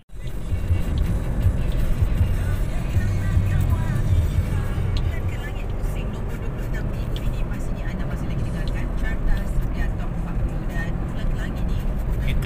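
A fully loaded Perodua Myvi drives along a country road in Negeri Sembilan, Malaysia, giving a steady low rumble of engine and road noise from inside the car throughout, with faint voices now and then.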